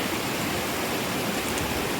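Rushing river water on a forest trek to Agasthyarkoodam in Tamil Nadu, a steady, loud broadband roar of flowing current filling the whole clip with no voices.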